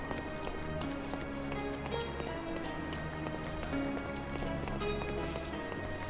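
Horse hooves clip-clop at a steady walking pace in a Sherlock Holmes video game street scene, heard over continuous background ambience with faint music tones, moderately loud and without talk.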